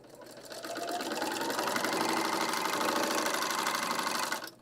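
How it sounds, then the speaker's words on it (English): A 2-in-1 overlock and cover stitch serger runs in one steady, fast whirring burst of stitching lasting about four seconds, then stops abruptly. "So the Bernina L890 and the Baby Lock Triumph are both a 2-in-1 overlock and cover stitch machine."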